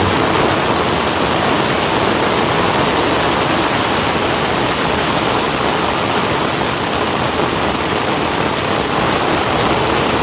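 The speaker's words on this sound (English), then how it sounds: "it's pouring down rain, and all this water is flowing down somewhere in this hole." Heavy pouring rain sends water rushing down into a hole, a loud, dense, unbroken roar of falling and draining water that holds steady throughout with no voices.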